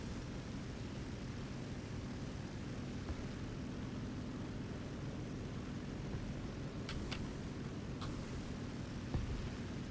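A Typhoon fighter jet flies in a combat video game, its steady broadband engine roar filling the scene at constant loudness, with a few brief sharp clicks and blips near the end.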